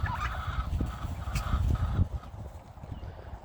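Midget White heritage turkeys call in a short burst of gobbling fowl sounds, fairly close, with a busy low rumble of barnyard noise underneath.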